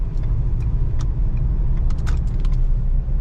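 A 2021 Ford Explorer Timberline takes a corner, its cabin filled with a steady, loud low road rumble and engine drone. Small clicks and rattles sound faintly over the top.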